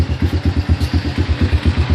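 Motorcycle fitted with DG nerf bars, Ambush tires and a Two Brothers exhaust idling close by, a steady loud lumpy rumble with even rapid pulses and no voices.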